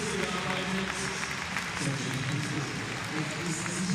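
A crowd at a bouldering competition final cheers and applauds to encourage a climber, a dense, continuous wash of clapping and shouting that holds steady throughout, with voices blended into the noise.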